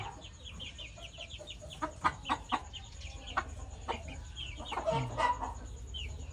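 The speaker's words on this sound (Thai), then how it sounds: "สวยมากนะครับลูกไก่สมบูรณ์ดีนะครับ" Hens cluck in short, uneven bursts close by, with sharp peeps from chicks scattered throughout over a faint steady background hum.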